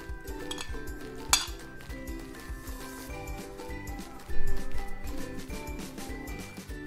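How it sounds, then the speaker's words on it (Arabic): Canned tuna is mashed in a bowl for a bean salad, giving soft utensil clinks and scrapes against the dish, close and uneven, with a louder knock near the start and a burst of clatter later. "نضيف التونة. ممكن نهرسها حاجة بسيطة كده بس"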